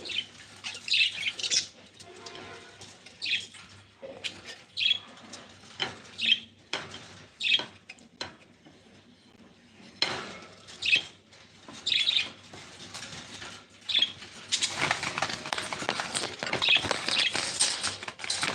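Pet parrots in an aviary squawk in short, sharp bursts repeated at irregular intervals, followed by a longer stretch of rustling and wing flapping near the end, all fairly faint with no talking.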